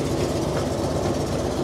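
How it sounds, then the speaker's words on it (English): A 1973 Buick Regal engine with an exhaust leak runs nearby, a loud, rough low rumble with a steady pulsing chuff throughout and no talking. "I assure you it's an exhaust leak."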